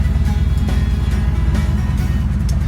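A 1967 Mustang GT project car drives along with a steady, loud low engine drone and rumble, no speech over it.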